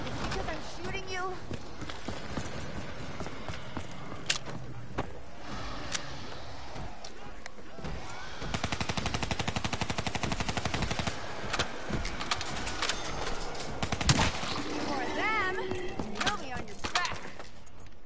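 Rapid bursts of gunfire in a zombies video game, sharp repeated cracks in quick automatic runs and scattered single shots over about eighteen seconds, with a person talking over the shooting.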